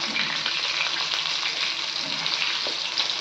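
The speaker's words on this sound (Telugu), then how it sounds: "ఇలా పచ్చిమిరపకాయలు వేయించుకున్నాం కదా," Green chillies fry in hot oil with a strong, steady, close sizzle full of fine crackling pops that holds unbroken throughout, with no talking.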